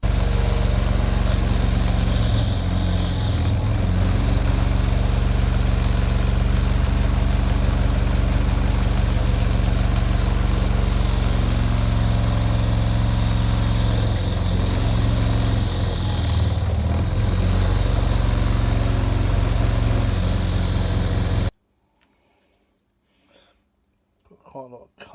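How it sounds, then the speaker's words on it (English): A wire wheel grinds steadily against a vintage cast-iron grocer's weight in a shed, a loud continuous whirring drone that runs unbroken for about twenty seconds, then cuts off abruptly into near silence with a few faint knocks. "So we'll see what the wire wheel can do with this."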